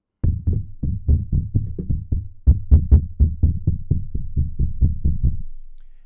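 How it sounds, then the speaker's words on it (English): Repeated taps on the stand of a Behringer BA-85A microphone with an internal shock mount, a steady run of about twenty loud, close thumps with sharp handling noise, heard alone without talk. "And so I'm going to tap the stand."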